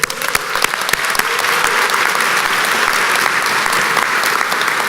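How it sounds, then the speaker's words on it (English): Sustained applause from a sizable crowd, dense clapping that starts with a few sharp claps and quickly swells into a steady, loud roar. "Can we give him a round of applause?"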